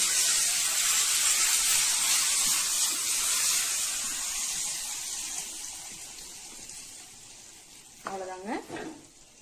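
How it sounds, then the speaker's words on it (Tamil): A hot tempering of oil and curry leaves is poured into sambar rice, giving a loud, bright sizzle that hisses alone and gradually dies down over several seconds, followed by a brief clatter of stirring near the end. "இப்போ தாளிட்டு நம்ம இதில் சேர்த்துடலாம்"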